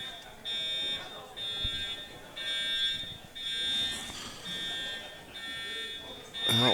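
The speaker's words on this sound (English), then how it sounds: "Somebody set off the alarm." A building fire alarm sounds at a pool tournament venue, a steady high electronic tone pulsing in repeated bursts over a room of crowd murmur and voices.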